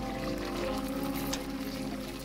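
Water is poured from a glass into a hot pan of spices with ground coriander while making an Indian curry, a steady close rush and splash that runs unbroken for a couple of seconds.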